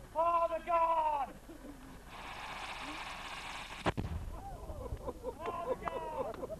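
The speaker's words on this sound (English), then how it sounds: "Fire in the gun. Fire the gun." Pigeons coo, then a single sharp blast from a historic gun at Pendennis Castle cracks out loud and close. Its boom decays into background noise as people chatter and the birds call again.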